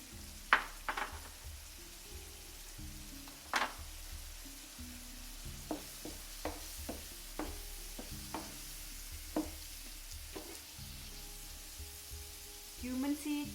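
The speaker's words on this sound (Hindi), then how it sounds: "साथ ही बाकी मसाले भी इसमें डाल दीजिए।" Red chili powder and other spices go into a hot pan for dalcha, giving a soft sizzle with repeated stirring scrapes and clicks of a spoon against the pan, close and moderately quiet.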